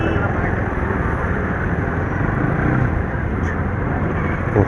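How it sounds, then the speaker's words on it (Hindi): Road traffic heard from inside a moving car in heavy congestion: a dense, continuous rumble of engines and tyre noise, loud and steady, with a voice talking over it. "बहुत ट्रैफिक है यार,"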